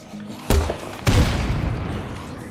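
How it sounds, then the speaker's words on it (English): Two heavy explosions boom in the video game State of Decay 2, about half a second apart, each a sharp blast that trails into a rumbling decay. "I'm assuming the big booms are you guys"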